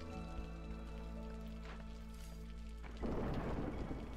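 A storm in the video game Against the Storm: a low thunder rumble runs beneath sustained tonal music, then a loud wash of rain suddenly sweeps in and continues.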